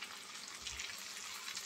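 Tilapia fish frying in hot oil, a steady close hiss and crackle of sizzling with faint watery bubbling throughout, no voices.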